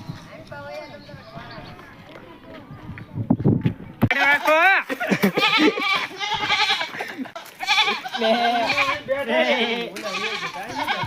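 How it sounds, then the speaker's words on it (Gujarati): A flock of goats and sheep on a road bleats loudly and repeatedly in overlapping, wavering calls, quieter at first and then a close, crowded chorus with some hoof clatter. "તો અમને રસ્તામાં ઘેટા બકરા મળી ગયા."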